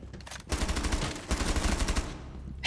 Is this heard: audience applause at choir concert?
no